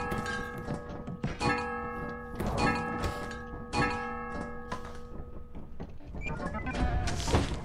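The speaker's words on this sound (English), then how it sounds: "Oh, the bell makes a sound now." A loud bell rings in the video game Lethal v50 beta, with repeated struck tones whose metallic resonance hangs and overlaps, mixed with dull thunks over several seconds.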